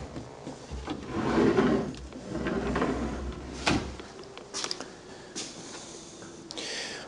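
Wide wooden kitchen drawers in a new custom-built home slide open and shut several times, with rubbing glides and soft knocks as they close, fairly close and quiet, with no talking.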